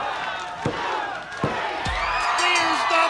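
Wrestling arena crowd roaring during a women's match, sustained cheering under a commentator's voice, with sharp slam and impact thuds from the ring punctuating the noise.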